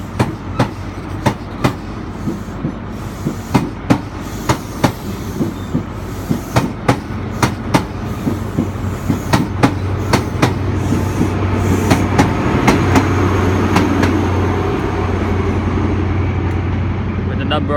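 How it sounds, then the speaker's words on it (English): First Great Western HST train pulling away from a platform at Exeter St David's, rhythmic clickety-clack of wheels over rail joints quickening as a rising engine drone swells, loud and close, with voices talking partly over it. "ready to depart now on platform 6, which is quite unusual, is the 1201 First Great Western service to London Paddington"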